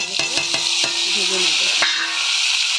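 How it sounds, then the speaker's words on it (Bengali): Lafa greens fry in a pan with onion, green chili and garlic, a bright constant sizzle broken by several sharp spatula scrapes and clinks against the pan. "ভালো করে ভাজছি এটা ভালো করে ভেজে নেবো"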